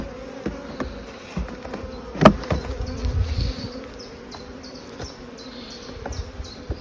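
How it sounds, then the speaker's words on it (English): Honeybees buzz around a hive frame during a swarm inspection, a steady droning hum from many bees close by, with a sharp knock or handling noise partway through. "There's a few bees on it though."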